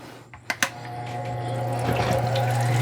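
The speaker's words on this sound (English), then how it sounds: "Turn on the water." Water runs from a tap at a lapidary bench where a streaky quartz cabochon is being worked, starting after a couple of clicks and rising into a steady close rushing flow over a low machine hum.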